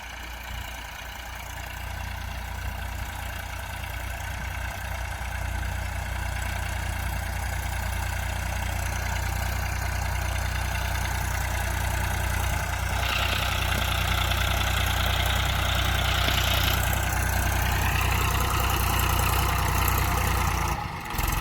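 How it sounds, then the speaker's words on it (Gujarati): A farm tractor's engine runs on and on in a field, a steady low rumble with a brief higher whine partway through, no voices. "હવે ટ્રેક્ટર આવે છે"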